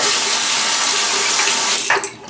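Tap water runs loudly and steadily as a Shavecraft 102 slant razor is rinsed under it, the flow closing down near the end.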